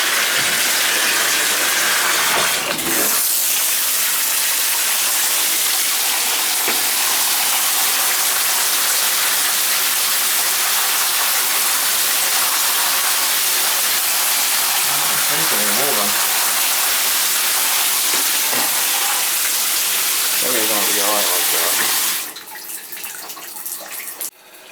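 Water pours steadily from a Moen tub shower valve that has a fault, a loud, close, continuous rush that stops abruptly near the end.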